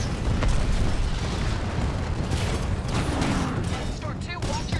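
Heavy Titanfall 2 battle din with enemy titans firing, a continuous roar of booms and blasts filling the scene while a voice talks over it.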